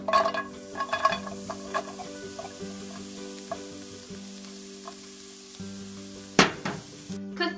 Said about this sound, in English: The first thing you want to do is get the onions into a hot pan.